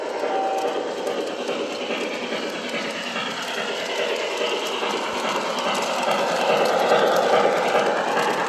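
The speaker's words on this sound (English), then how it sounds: "Train will just go straight through it." A train rolls steadily through a double track crossover with a continuous rumble and faint rhythmic clicking of wheels over the rails, fairly close.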